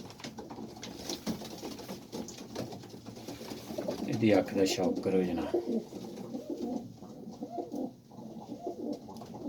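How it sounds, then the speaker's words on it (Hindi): Lakha pigeons coo nearby in low, throaty, rolling calls while someone talks over them. "लाखा कबूतर है"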